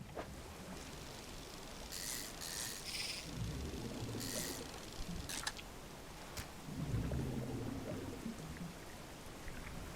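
A waterfall in the fishing game Dredge gives a broad, steady rushing roar with low rumbling swells, joined by a few brief bright splashy bursts and no talking.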